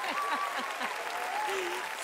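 A TV talent-show studio audience applauds for a child contestant, a dense, steady wash of clapping with voices and a whistle-like tone rising over it.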